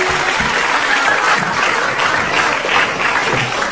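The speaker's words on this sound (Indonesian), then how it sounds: "Tepuk tangan" Studio audience applause on an Indonesian comedy show, a loud, dense, continuous wash of clapping from a large crowd that holds steady throughout with no gaps.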